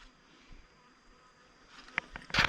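Bees buzzing around a backyard beehive: a faint, steady insect hum throughout, with brief closer buzzes and a louder fluttering rush near the end.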